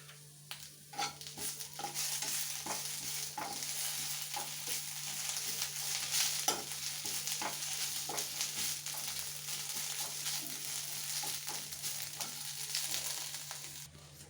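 Curry leaves sautéed in a pan for curry leaf thokku, a continuous gentle sizzle with repeated scraping and stirring strokes of a spatula, steady and close throughout.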